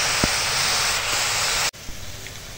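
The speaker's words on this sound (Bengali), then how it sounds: "এবার বাঁধাকপিটা চাপিয়ে দিয়েছি, এবার বাঁধাকপিটা ভেজে নেবো" Cabbage fries in oil in a pan after potatoes, giving a dense, steady hiss that cuts off abruptly partway and resumes more quietly, close by with no talking.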